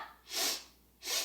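Sharp, forceful nasal breaths during a dynamic standing yoga breathing exercise: two strong, close bursts of air separated by a short pause.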